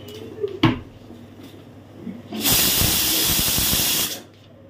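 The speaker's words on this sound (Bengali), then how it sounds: "ওদিকে তো প্রেশার কুকারের সিটি পড়ছে" A pressure cooker vents a loud burst of hissing steam lasting under two seconds, preceded by a few light knocks and clatters in a home kitchen.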